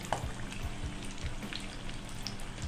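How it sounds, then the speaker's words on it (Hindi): Chicken cheese pockets fry in a pan, giving a steady, fairly quiet crackling sizzle with faint pops throughout. "तो दूसरी साइड से भी ऐसे ही पलट के फ्राई कर लेंगे।"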